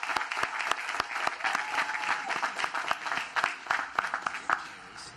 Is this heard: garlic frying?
no